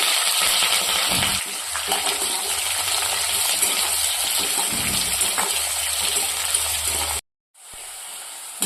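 Green chillies hit hot oil with dried red chillies, setting off a loud, close, continuous sizzle that cuts out abruptly for a moment near the end before a quieter hiss returns.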